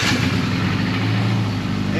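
A custom Mitsubishi Evo X with a bad motor runs roughly, a loud steady engine drone with a low, uneven rumble throughout, close by and continuous, with no talk over it.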